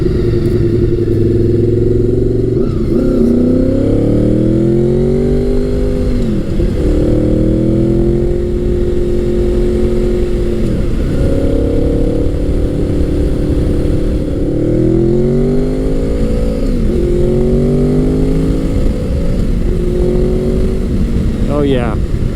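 A 1990s Honda sportbike engine revs hard above 6,000 RPM, its loud rising and falling pitch sweeping up through repeated throttle bursts, with an overall wind-blown roar throughout.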